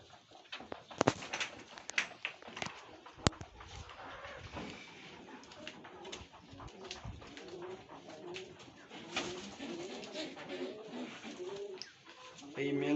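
A male Lotan pigeon coos repeatedly at a bird farm, soft throaty calls close by amid steady background bird noise and faint voices.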